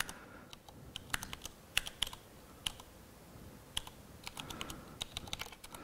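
Fingers type on a computer keyboard at a conference talk on the Vim editor, producing irregular crisp key clicks in short bursts with pauses, moderately close and with no talk.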